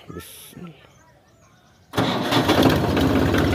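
A vehicle engine that has sat parked for two to four days cranks and catches after a short voice and quiet moment, then runs loudly and steadily up close.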